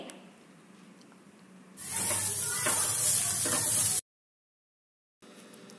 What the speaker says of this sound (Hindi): इन सारी चीज़ों को अच्छी तरीके से मीडियम फ्लेम पे रख के फ्राई करेंगे